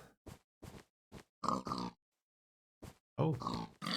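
Pigs in the Minecraft video game grunt and oink in a run of short clipped bursts, then a few longer snorting calls after a pause, close and moderately loud.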